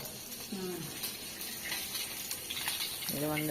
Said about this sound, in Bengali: এই মাছটা সব ভাইজে নিই